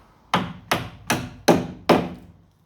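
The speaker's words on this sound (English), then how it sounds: "just give it a little chop with the hammer." A hammer strikes a 17mm socket on a Ford P100 pickup five times at an even, unhurried pace, each blow a sharp close metallic knock that decays quickly, with no talk.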